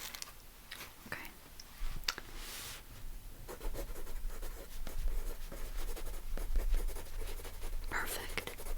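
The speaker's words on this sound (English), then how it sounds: "I'll just write them down as you tell me" Pen scratching notes onto paper during a close, quiet one-on-one session, soft irregular strokes and taps while someone speaks gently over them.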